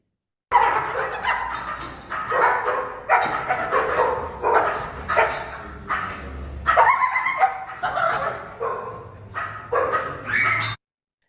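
An aggressive, cornered and agitated dog barks repeatedly and loudly up close. Bursts of harsh barks and yips come in rapid succession over about ten seconds, mixed with whimpering tones.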